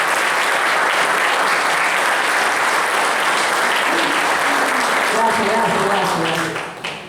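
Audience applause fills a lecture hall at a Catholic theology school as a speaker is welcomed, a sustained, dense clatter of many hands that fades at the end while a voice begins talking over it.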